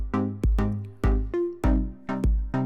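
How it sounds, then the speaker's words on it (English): Bright square-wave pluck synth built in Serum from a picture used as a wavetable, playing short separate notes in an uneven rhythm, each with a sharp attack and quick decay, clean and alone. "It's pretty standard square wave pluck-ish sound."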